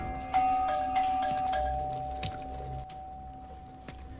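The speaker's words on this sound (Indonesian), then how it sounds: "terdengar suara bel yang terus-terusan berbunyi" A doorbell rings over and over in a Korean survival-game drama, its sustained electronic tone continuing under a low background hum with scattered clicks and knocks.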